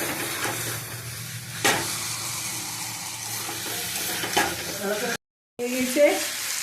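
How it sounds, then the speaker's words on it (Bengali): Chicken pieces sautéed and stirred in a hot pan for a Bengali curry, with steady close sizzling and a spatula scraping against the pan, broken by a brief silent gap. "একটু ভালো করে এই তো মাংসটা কষি ভালো করে।"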